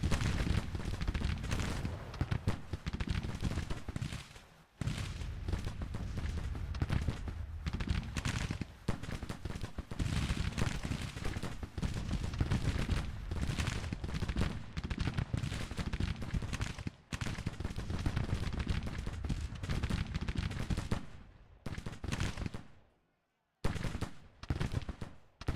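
Dense, continuous musket volleys and artillery fire from a Civil War battle in the Grand Tactician: The Civil War video game, a sustained roar of overlapping shots with brief gaps near the end.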